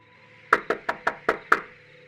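Six sharp knocks on a house window, evenly spaced with a slight speed-up in the middle, close and crisp against a quiet background.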